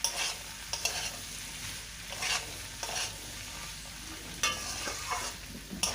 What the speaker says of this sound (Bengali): আলুগুলি দিয়ে দিলাম। এবারে ভালো করে নেড়ে চেড়ে নেব।